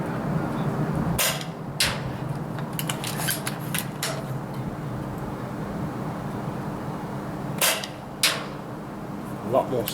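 Double Eagle M66 700 Pro airsoft rifle firing at a target, a few sharp snapping shots spaced seconds apart over a steady background hiss, with a pair of shots near the end.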